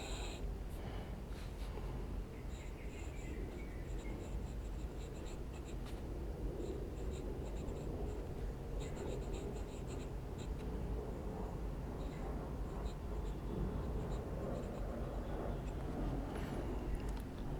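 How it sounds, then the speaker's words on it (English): An extra fine nib fountain pen scratches lightly across paper in steady, continuous strokes, a faint close-up rustle over low background rumble, with no talking. "so I'm going to do a bit of writing with the Lume"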